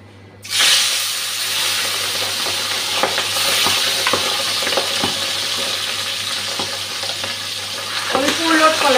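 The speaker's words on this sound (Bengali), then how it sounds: "মাছটা ভাজতে দিয়ে দিচ্ছি।" Pabda fish sizzling steadily in hot oil in a pan after a sharp onset as it goes in, a loud continuous crackle with occasional spatters and stirring clinks, no talk.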